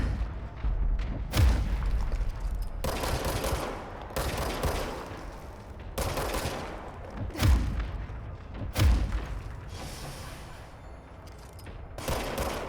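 Guns fire in a practice range in the game Control: several loud, sharp volleys of shots come in separate bursts, each with a booming thud and ringing decay, spaced a second or two apart.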